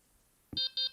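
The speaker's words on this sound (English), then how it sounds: "turn the receiver on, wait for 2 beeps" Two sharp electronic beeps from a Delkim fishing bite alarm receiver ring out close together after a soft click, clear and alone.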